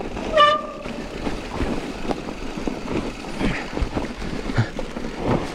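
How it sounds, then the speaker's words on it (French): A short, high-pitched squeal from a mountain bike's front brake rings out near the start, then rolling and rustling noise continues outdoors on an Alpine trail with no talking. "c'est carrément mon frein avant qui cuine comme ça"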